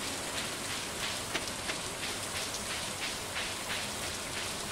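Steady rainfall in the farming video game Stardew Valley, a dense even patter of raindrops with no talk over it.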